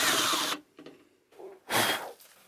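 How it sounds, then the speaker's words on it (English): A drill bores a big hole in the end of a metal ruler in short loud bursts separated by quieter gaps, close up, with no talking. "Drill a big hole in the end"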